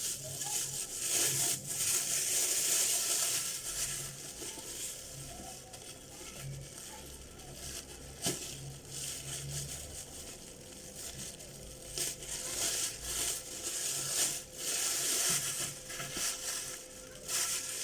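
A plastic bag of salted sardines being opened, with quiet crinkling and rustling, soft crunches and a few sharper clicks going on throughout at low volume.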